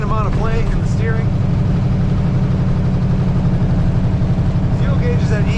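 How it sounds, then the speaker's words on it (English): A 1955 Ford F100 short-box pickup with side pipes, its engine rumbling loud and steady close by, a low throbbing exhaust note running throughout with brief talk over it at the start and end. "It's got side pipes, and they actually sound really good."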